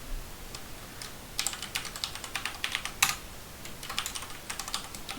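A password being typed on a computer keyboard, with bursts of quick, light key clicks in irregular runs and a few sharper strikes, close and fairly quiet with no talk.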